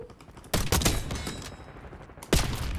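Heavy gunfire in the Black Ops 6 beta. Two loud, booming shots land about two seconds apart, each trailing off into a lingering rumble over quieter background game noise.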